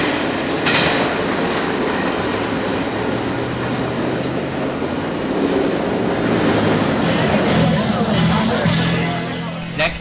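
A freight train rumbles past nearby in Central Florida with continuous loud wheel noise and clatter, steady throughout.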